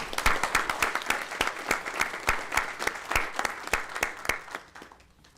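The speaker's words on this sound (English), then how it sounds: "let us join together in a round of applause for Mr." Steady round of applause at a Texas Board of Criminal Justice board meeting, dense clapping from a seated audience that holds through most of the stretch, then thins and fades near the end.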